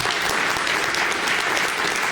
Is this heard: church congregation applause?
yes